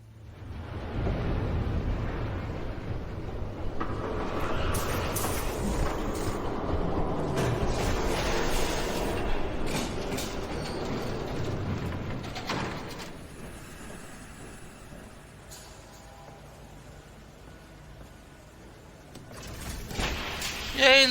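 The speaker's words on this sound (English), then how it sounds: "There's a train coming." A train rumbles past in the Batman Telltale video game, a loud, sustained mechanical roar with clanks and screeching bursts that fades out after about twelve seconds, leaving quieter game ambience before a final clatter.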